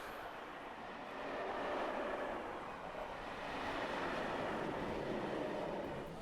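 Model train on a compact shunting layout at a model railway exhibition, a soft continuous rolling rumble of wheels on track that swells slightly and stays steady, fairly faint, with no talk.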